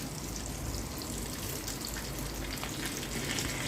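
Cumin seeds, bay leaves and whole garam masala sizzling in hot oil, a dense continuous hiss with fine crackle, steady and close throughout, with no voices.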